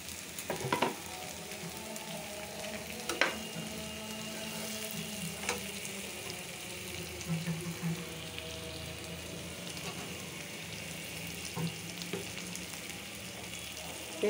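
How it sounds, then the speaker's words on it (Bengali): Onion and minced chicken fry in oil in a pan, giving a soft, steady sizzle broken by occasional light stirring clicks and scrapes. "তেলটা দিলে তেলে আর একটু পেঁয়াজ ভাজা হবে, মাংসটা আরও ভাজা হবে।"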